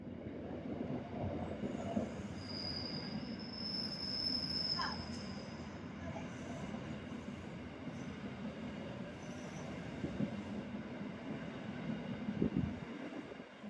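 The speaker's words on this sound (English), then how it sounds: "Now for trains and tram all moving at once." Trains and a tram rumble past continuously with a low heavy roar, rail noise and a brief high metallic wheel squeal early on, fairly close and steady throughout.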